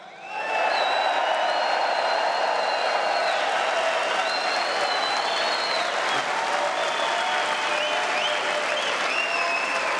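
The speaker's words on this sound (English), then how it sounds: "I'll join in that applause." An audience at the 2018 NRA-ILA Leadership Forum breaks into sustained, loud applause. Cheers and shrill whistles rise over a thick wall of clapping that holds for about ten seconds.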